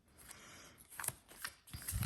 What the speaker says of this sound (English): So let's shuffle through here.